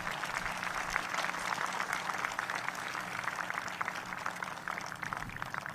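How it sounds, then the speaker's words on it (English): Audience at a governor's opening address to the state legislature applauding steadily throughout, a dense even patter of many hands, moderately distant in a large chamber with no voices over it. "Let's give Brandon a round of applause tonight."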